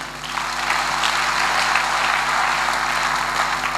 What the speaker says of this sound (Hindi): धन्यवाद के लिए जोरदार ताली।